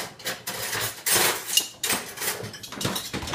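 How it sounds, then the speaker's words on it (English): Silverware being loaded into the bottom rack of a dishwasher, a series of close metallic clinks and clatters against the rack, irregular and moderately loud. "Load silverware upside down on the bottom rack."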